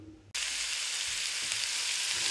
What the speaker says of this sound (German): da brate ich mal ein paar Paprikawürfel, Zwiebeln, Knoblauch an